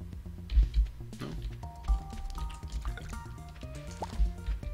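Watering crops in the farming game Stardew Valley: a run of soft, close splashy drips and liquid spatters, several short bursts spread over a few seconds against light background music.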